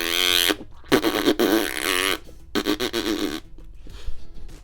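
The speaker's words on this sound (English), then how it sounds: "Screenslaver, make fart noises." An Alexa voice game, When in Rome, plays a string of loud, wet, buzzy fart noises in several bursts of varying length, with short gaps between them and no talking over them.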